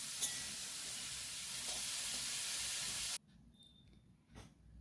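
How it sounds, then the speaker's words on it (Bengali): Vegetables sizzle and hiss in a hot frying pan while being stirred, a steady loud fry that cuts off abruptly partway, leaving quiet room tone with faint clinks. "নাড়াচাড়া করে একটু ভাজা ভাজা করে নেব।"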